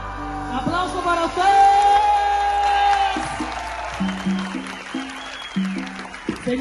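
An audience at a concert of Cuban music claps and cheers, moderately loud, with a voice and sustained musical tones running over the applause.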